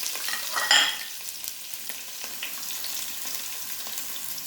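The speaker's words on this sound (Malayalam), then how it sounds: "ഉലുവ പൊട്ടിക്കഴിയുമ്പോൾ നമ്മൾ അതിലേക്ക് അരിഞ്ഞു വെച്ച വലിയുള്ളിയും പച്ചമുളകും ചേർക്കുന്നു." Chopped onions and green chillies hit hot oil with popped fenugreek seeds for a beef curry, a loud burst of sizzling that settles into steady frying with light stirring scrapes.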